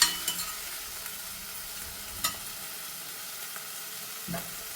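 Tomatoes frying in hot oil in a pan, a continuous quiet sizzle and crackle up close, with a few light stirring scrapes.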